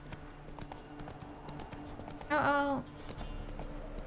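Horse hooves clip-clop in The Witcher 3, a steady faint rhythmic patter of steps with a short vocal exclamation partway through.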